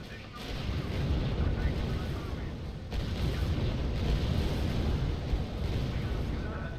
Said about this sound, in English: Unit reports heavy fire.